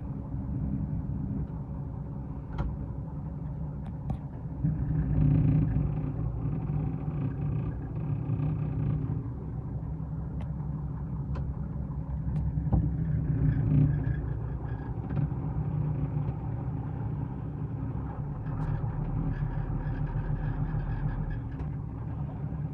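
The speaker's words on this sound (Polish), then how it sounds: "Traktorek chodzi elegancko, wszystkie półbiegi działają." Valmet 8050 tractor with a six-cylinder 115 hp SISU diesel running steadily: a continuous low, throaty rumble that swells slightly twice, with no talk over it.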